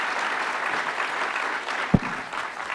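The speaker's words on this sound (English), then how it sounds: "Give him a big applause." An audience at a conference in Singapore applauds in a soft, short burst of clapping, with a faint voice underneath.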